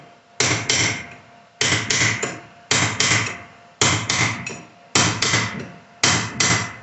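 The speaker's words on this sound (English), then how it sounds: "So then I take the reasonable size hammer and the cold chisel" Reasonable-size hammer striking a cold chisel on the trunk of a 1980 Triumph TR7, six sharp metallic blows each ringing briefly, evenly spaced about a second apart, loud and close.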